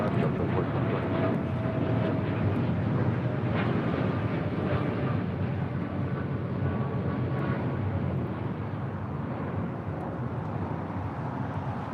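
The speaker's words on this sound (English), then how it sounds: "788 taking off to Toronto on a 787-8 Dreamliner" An Air Canada Boeing 787-8 Dreamliner takes off from LAX, a broad, steady jet rumble heard from some distance that stays even throughout and slowly eases toward the end.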